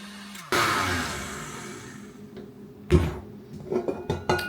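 Electric hand mixer beating egg whites for keto white bread, a steady whirring drone running through most of the clip, then clattering bumps and knocks against the bowl near the end.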